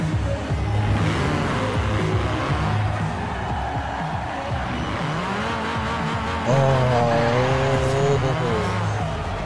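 A car spinning its tires in burnouts in Forza Horizon 4, engine droning and revving under a long, wavering tire squeal that rises and screeches louder late on, with a brief voice exclaiming.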